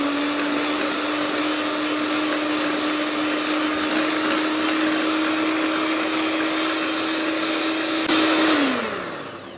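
An electric mixer beating a powdered sugar and fat mixture for naan khatai, a loud steady whirring drone held evenly for several seconds, then winding down as it switches off, with no talk.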